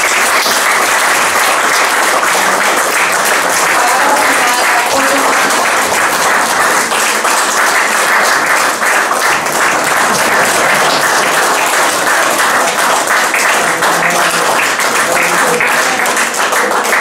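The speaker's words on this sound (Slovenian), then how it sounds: "Mislim, da zasluži en velik aplavz" A large audience at a talk with a politician and author breaks into loud, sustained applause, packed hand claps rolling on steadily for many seconds with no pause.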